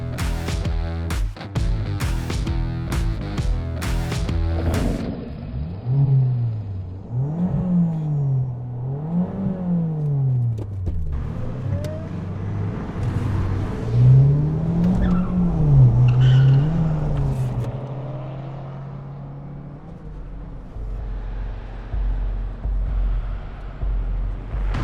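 A car revs hard and pulls away on a road near Ostia, with loud rising and falling engine sweeps, a few sharp tire squeals and skids, and repeated revving under no talk.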